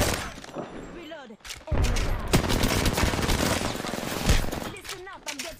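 Rapid bursts of automatic gunfire and heavy impacts crackle loudly and nearly nonstop in a first-person shooter video game firefight, with voices talking over the shooting.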